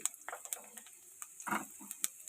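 Chopped garlic and whole cumin dropped into hot oil with a dried chili, giving soft sizzling crackles and scattered stirring clicks of a utensil against the pan, close and fairly quiet.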